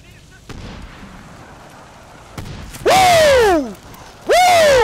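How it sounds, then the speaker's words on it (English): Mortar rounds in the Medal of Honor Warfighter online shooter: two loud blasts, each followed by a descending whistling shriek, preceded by quieter thumps and background battle noise. "did I get somebody with that mortar?"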